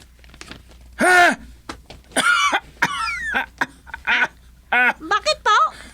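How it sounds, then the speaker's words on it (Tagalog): Repeated harsh coughs from an elderly man come in bursts, several rough hacking fits close together with a throat clear, loud and near. "hindi na tumitigil yung ubo ninyo"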